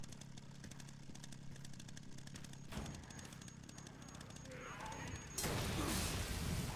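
A chainsaw revs and buzzes steadily in the zombie-fighting video game Resident Evil Requiem, its engine-like drone joined by sharp gunfire-like bursts and growing louder toward the end.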